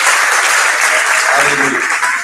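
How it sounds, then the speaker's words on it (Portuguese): A church congregation applauding during a service, a loud dense wash of clapping that holds steady from start to finish, with voices faintly mixed in. "Pode dar um aplauso ao Senhor"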